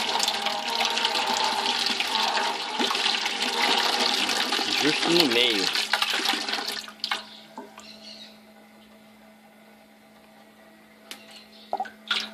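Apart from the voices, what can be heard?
water falling through false bottom of brewing vessel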